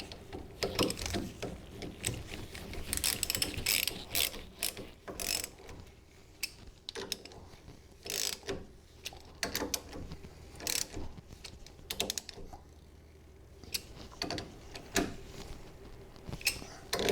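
A hand ratchet clicks in quick, repeated bursts while tightening 15 millimeter bolts on a Meyers Manx dune buggy's disc brake assembly, close and fairly quiet, with short pauses between strokes.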